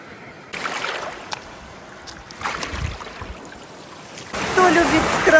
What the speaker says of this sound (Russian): почувствуйте себя, что вы сейчас идете по Черному морю